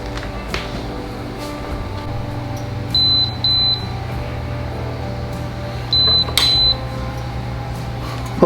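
Two pairs of short electronic beeps, a few seconds apart, sound over a steady appliance hum and low background noise.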